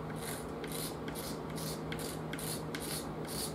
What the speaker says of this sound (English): just draw it across the wood very lightly, and you'll get most of that stuff off.